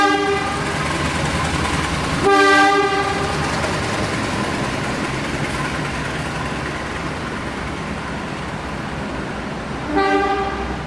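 Indonesian passenger train running straight through a station without stopping, a loud continuous rumble of wheels and cars with two short horn blasts, one early and one near the end.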